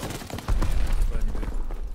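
Rapid FG-42 automatic fire in the World War II shooter Call of Duty: WWII, a dense burst of shots with faint talk mixed in.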